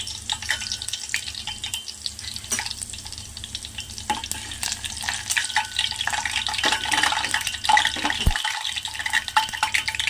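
Crushed small onions and chopped onions fry in hot oil for drumstick-leaf dal. A close, continuous sizzle runs throughout with busy scraping and stirring clatter, and no one speaks.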